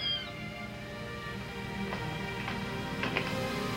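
Four newborn kittens meow in a barn at night. The cries are faint, thin and high, several short mews scattered over a low steady background.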